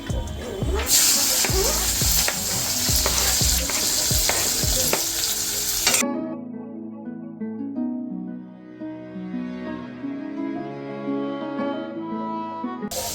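Chopped onion frying in hot oil for vada pav, first a loud, bright crackling sizzle with spoon scrapes, then a sudden drop to a quieter, duller simmer with occasional clinks, close by and no talk.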